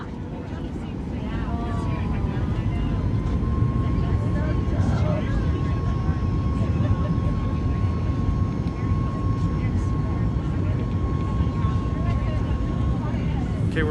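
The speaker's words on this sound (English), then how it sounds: "First takeoff in the Max." Alaska Airlines Boeing 737 MAX jet on its takeoff roll, heard from inside the cabin: a steady, loud engine roar builds in the first seconds and holds, with a sustained high-pitched whine running over it throughout.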